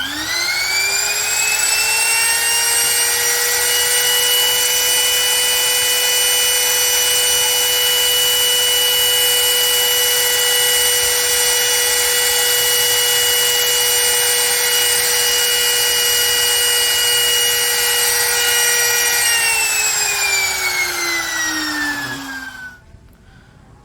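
A DCA AMP02-6 wood trimmer motor runs unloaded, a loud, smooth, steady high-pitched whine held for about twenty seconds, then dropping in pitch as it winds down near the end.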